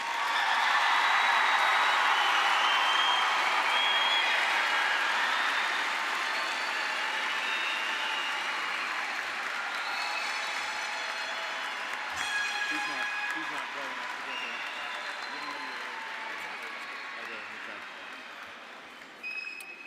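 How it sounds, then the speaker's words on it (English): Sustained applause from a crowd honoring graduating seniors at a Turner Ashby High School graduation ceremony, loud and steady at first and gradually thinning out over about twenty seconds. "Let's have a big round of applause for all of our graduates."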